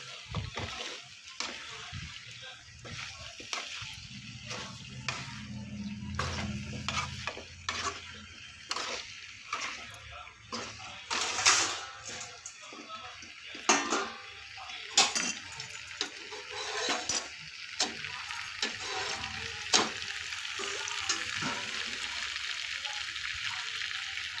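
Pumpkin being stirred and sautéed with onion and tomato in hot oil, giving a steady soft sizzle with repeated scraping and stirring noises from a pan, close and moderately loud throughout.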